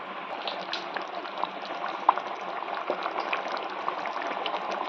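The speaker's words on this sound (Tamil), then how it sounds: "இது நம்ம ஒரு 5 மினிட்ஸ் நல்லா கொதிக்க விட்டுக்கலாம்" A pot of thick potato curry bubbles and simmers close up, with steady soft blips and occasional louder pops, no talking.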